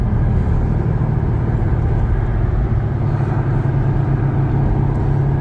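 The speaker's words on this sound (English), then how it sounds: "this car inhaling all of that extra air from the supercharger that then just blasts off" A supercharged Chevrolet Corvette accelerates hard, its loud, steady engine roar close and continuous throughout with no pauses.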